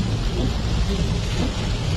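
Steady heavy rain pours down on the road to Dresden, Germany, in a dense, continuous hiss with a deep low rumble underneath, no talking.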